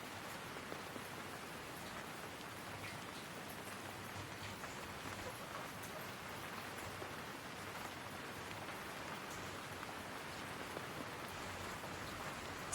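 Steady rain falls in Sydney where soaked Silkie chickens stand outdoors, a continuous even hiss of drops on surfaces holding at a constant level throughout with no pauses.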